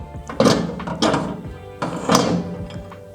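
Several dull, muffled thuds of a Samsung MS20A3010ALUA microwave oven door being handled and shut, close by, with brief rustling between the knocks.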